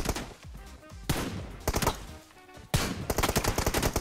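Gunshots from a first-person shooter game ring out in several sharp, loud bursts with short gaps between them. No voices can be heard over the firing.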